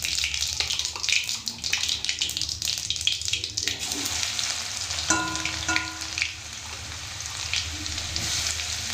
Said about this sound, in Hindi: तो लहसुन को हम बढ़िया से भून लेते हैं